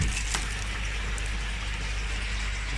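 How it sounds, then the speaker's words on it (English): Pumped water pours steadily into an IBC tank, a constant close rushing and gurgling wash with a low pump hum beneath, unbroken and even for the whole stretch. "I've got water flowing into the IBC now"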